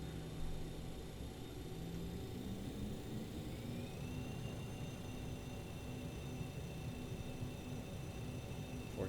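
BAe 146 four-engine jet in the MSFS 2024 flight simulator, its engines spooling up under held brakes: a steady whine rising slowly in pitch over a continuous low roar, even and fairly quiet.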